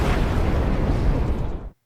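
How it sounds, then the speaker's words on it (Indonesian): A large blast from detonated explosives, a loud, sustained rumbling boom with dense low-end roar that holds for well over a second before cutting off abruptly into silence. "Ledakan besar pun terjadi."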